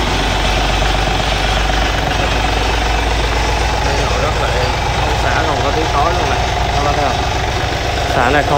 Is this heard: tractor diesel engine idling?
yes